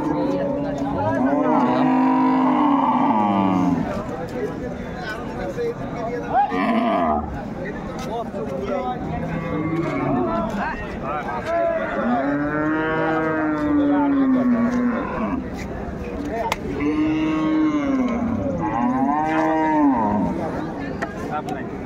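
A dairy cow moos repeatedly at a busy Dhaka cattle market, several long drawn-out calls close by, with people talking over and between them.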